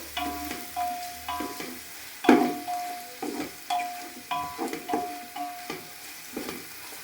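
Chopped tomatoes frying in a pan for a coconut chicken biryani, with a soft sizzle and a regular series of stirring scrapes and clinks, close up, with a faint tonal background.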